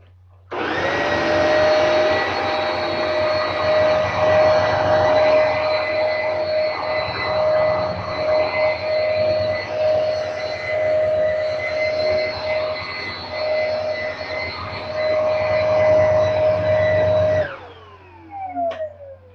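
A G6 canister vacuum cleaner roars steadily on carpet with a strong high whine, loud and close, for about seventeen seconds. Then it switches off and its motor winds down with a falling tone.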